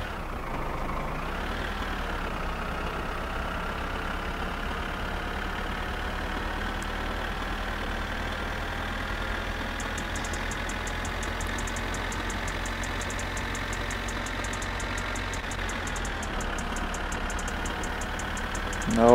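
Tractor engine in the video game My Summer Car, a steady mid-pitched droning chug held for the whole stretch with slight pitch rises as it labors forward, alone and fairly loud.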